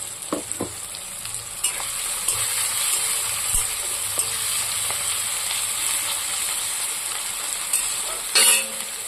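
Steady sizzling of frying in a pan for a shrimp and greens dish, a continuous hiss with occasional light stirring scrapes and taps throughout, no talk.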